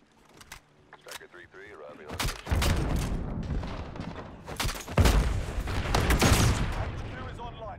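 Desert Eagle pistol fired in the video game Modern Warfare, several loud heavy booming shots in quick succession amid in-game gunfire and explosions, with voices talking in between.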